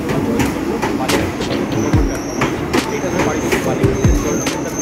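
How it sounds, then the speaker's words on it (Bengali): A Diamond Harbour galloping local train pulls into Ballygunge station, with a steady rumble of rail cars, rhythmic wheel clatter over track joints and a few brief wheel squeals, fairly loud amid platform crowd chatter. "ডায়মন্ড হারবার গ্যালোপিং লোকাল এখন বালিগঞ্জ স্টেশনে প্রবেশ করলো"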